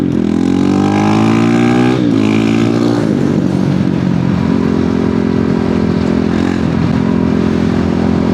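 A supermoto motorcycle, a DR-Z4SM or CRF450RL, accelerates hard in second gear, its loud close engine note climbing steadily through a short rev sweep and then holding a sustained high drone.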